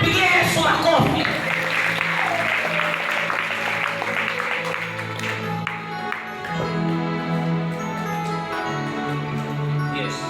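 A church congregation claps for Jesus in a steady, sustained wash of applause, mixed with music and voices throughout.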